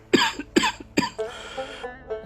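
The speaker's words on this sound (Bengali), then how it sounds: "তুমি তো এখনো কাশছো বাবা" An elderly father in a Bengali animated children's story coughs three sharp, evenly spaced times up close, then gives a longer, breathy rasp as he clears his throat.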